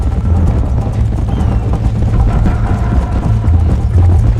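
Horse hooves galloping in Red Dead Redemption, a loud, dense rolling thud of hoofbeats over a heavy low rumble, continuous and close throughout.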